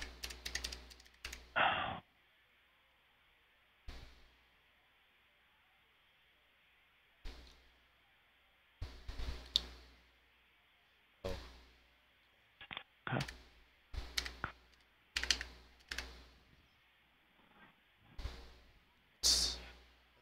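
Computer keyboard typing during a Windows tech-support call, sparse clusters of faint key clicks scattered across a mostly quiet stretch, with short pauses between bursts.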